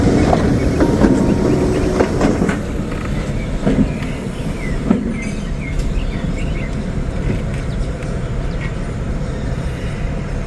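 A locomotive-hauled train rolls past close by, wheels clicking rhythmically over rail joints with a continuous rumble and occasional squeals, the sound staying steady throughout.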